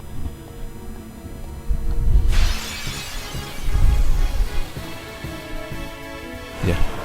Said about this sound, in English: It usually takes me like maybe 5 to 10 hits to make the shattering